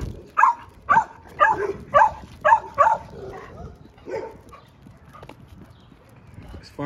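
An American Bully dog barks nearby in a quick run of about six sharp barks, then gives a few softer, scattered sounds as the walk goes on.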